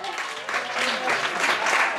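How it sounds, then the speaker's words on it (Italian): Crowd applause at a hunters' festival concert by a cover band, a dense steady clapping wash that swells slightly midway, with some voices and music mixed faintly underneath. "un grande applauso, vai!"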